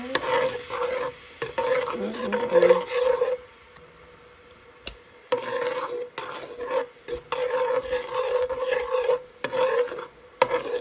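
Garlic and Alfredo pasta sauce stirred in a pan, an irregular scraping and rubbing against the metal with bursts of sizzle, pausing briefly partway, over a steady tonal hum throughout.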